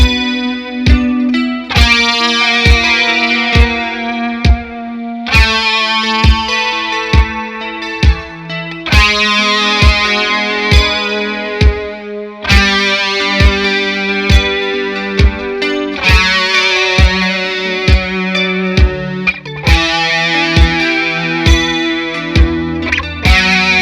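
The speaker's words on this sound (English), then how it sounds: "I have the rhythm recorded in my looper pedal already, so just the one guitar part sounds like this." An electric guitar plays a part through effects, layered over a rhythm loop from a looper pedal. Steady strummed chords with regular rhythmic accents, loud and continuous, with no talking.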